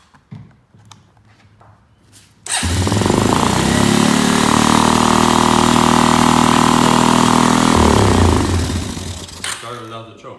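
A Suzuki ATV engine with a new battery cranks briefly and catches into a loud, steady close idle for several seconds before dropping off, with people talking before and after.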